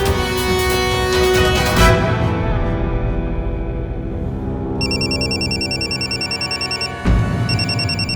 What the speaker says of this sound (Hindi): राघव का फोन।